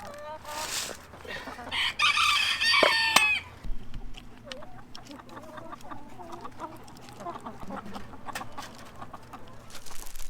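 A mixed backyard flock of chickens clucks steadily while a rooster crows loudly near the start, followed by continuous close clucking and soft farmyard chatter.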